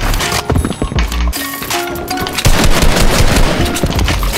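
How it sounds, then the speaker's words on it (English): Repeated shotgun blasts in a video game, loud and close, firing in a quick irregular burst of several shots with no talk over them. "This is shotgun."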